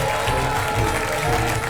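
A comedy club audience applauds and cheers for a comedian coming on stage, a dense, steady wash of clapping and crowd noise.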